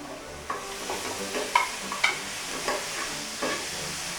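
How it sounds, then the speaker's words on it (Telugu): A spoon stirs a cardamom powder and ghee mixture in a pan for a Telugu coconut poornalu sweet. The fat sizzles softly throughout, and the spoon scrapes and taps against the pan at irregular intervals. "ఇవన్నీ బాగా మిక్స్ అయ్యేంత వరకు కలుపుకోవాలి."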